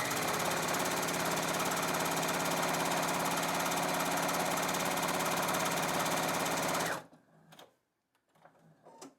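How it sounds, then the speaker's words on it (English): A sewing machine stitches fabric squares along a diagonal, running as a loud, steady, fast mechanical whir for about seven seconds before stopping abruptly, followed by a few quiet handling clicks. "So now here we are at the sewing machine."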